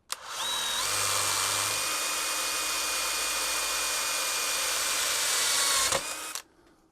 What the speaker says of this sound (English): I'm going to go with a center drill second, drilling through the threads on the shaft of my mill